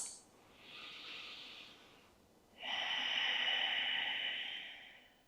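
Two deep breaths during a yogalates core workout, a softer airy breath followed by a longer, louder exhale close to the microphone.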